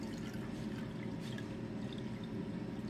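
Water poured into fry mix batter in a home kitchen, a soft continuous trickle and splash of liquid, fairly quiet and close, with no talking.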